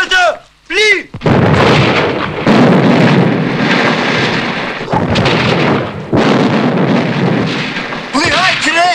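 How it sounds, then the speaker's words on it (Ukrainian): A cannon fires in a 1992 war drama, booming heavy blasts with long rumbling roars that follow one another over several seconds, loud and close, with shouting voices in between. "Гармата! Плі!"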